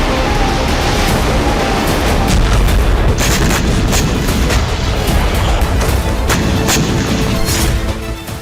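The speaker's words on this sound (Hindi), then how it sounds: "सटीक जानकारी के बाद हाइमार्स से रूसी सेना पर हमला किया जा रहा है" HIMARS rocket artillery firing on Russian army positions makes a dense, continuous roar broken by repeated sharp blasts, loud and unbroken for the whole stretch.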